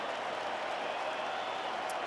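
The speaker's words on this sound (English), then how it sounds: "Crowd trying to help out Glasnow" A baseball stadium crowd at an NLCS playoff game between the Milwaukee Brewers and Los Angeles Dodgers keeps up a steady, distant roar of cheering and clapping to urge on the pitcher, a constant dense wash with no single voices standing out.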